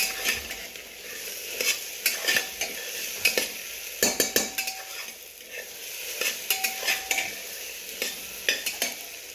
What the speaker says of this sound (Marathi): खोबरं लसूण टाकून घ्या खोबरं लसूण चांगलं पचवून घेऊ आपण